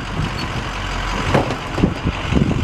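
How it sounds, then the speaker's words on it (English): A tow truck with a 6-liter engine works its wheel lift, a close, dense mechanical rumble with a few clanks and thumps near the end, and no voices. "Show you the wheel lift working."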